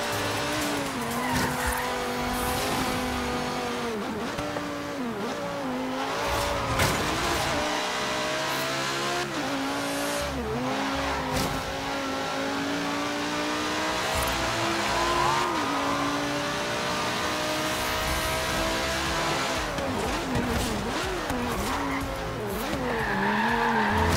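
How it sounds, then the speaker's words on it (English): Race car engine in Forza Horizon 3 roars steadily through the final lap, pitch climbing and dropping with gear changes, with repeated loud tire squeals and skids while cornering; continuous and close, no talking. "On to the final lap of this race."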